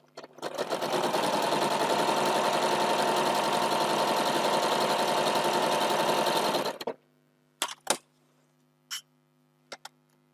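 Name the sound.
sewing machine sewing a quilt block seam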